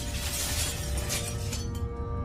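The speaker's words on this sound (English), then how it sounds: "I heard the unmistakable sound of glass shattering" Glass shattering as a sound effect in a horror story: a dense, bright crash of breaking glass with scattered tinkling fragments, trailing off into a humming tone.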